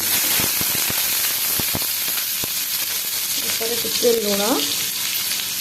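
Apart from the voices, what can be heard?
potatoes frying in hot oil in a kadai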